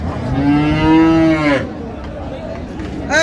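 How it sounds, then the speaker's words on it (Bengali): A loud, close cow moo, long and drawn out, at the Raniganj cattle market in Dinajpur, followed by a busy market murmur in the background. "গাভী বাছুর"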